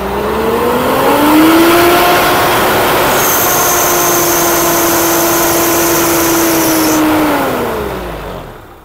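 A car engine revs up and holds high around 4,000 RPM for several seconds, a steady whining drone with a metal-on-metal grinding tone layered on top, then winds back down.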